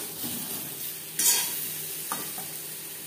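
Potato pieces fry lightly in hot oil with salt and turmeric for a spicy chatpoti aloo curry, giving a steady close sizzle with one sharp stirring scrape and a lighter clink later, and no voices.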